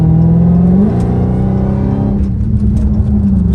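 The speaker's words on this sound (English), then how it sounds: "Dude, this car freaking pulls." A Hellcat Redeye accelerates hard, its supercharged engine roaring loud and close with rising revs, a brief drop at a gear change, then climbing again.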